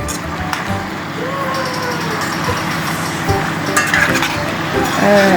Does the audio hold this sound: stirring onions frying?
yes